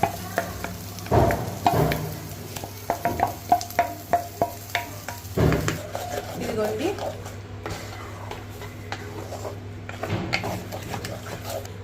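Mushroom and meal-maker curry sizzling in a pan while a spoon stirs and scrapes in bursts, close and moderately loud, with someone talking intermittently over the cooking.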